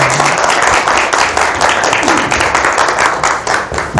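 Loud, dense applause from an audience welcoming a fashion designer onto a stage, steady clapping throughout with a brief voice at the start.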